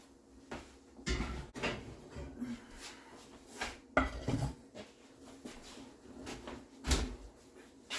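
A Dutch oven used for baking rustic sourdough loaves is swapped inside a kitchen oven, producing scattered metallic clanks, knocks and rack scrapes at irregular intervals, moderately close but fairly quiet, with faint kitchen background.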